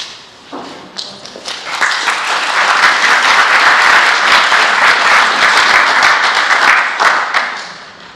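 An audience at a talk on the Chailey Heritage Foundation's children's home and WWI soldiers' hospital history breaks into applause that builds from a few claps to a full, loud, sustained round before tapering off.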